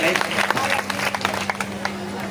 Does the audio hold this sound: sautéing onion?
no